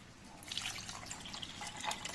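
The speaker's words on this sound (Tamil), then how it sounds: "தண்ணி ஊற்ற." Water poured into a pot while homemade ghee is being prepared, a soft continuous splashing and trickling with small drips, fairly quiet and steady, with no talking over it.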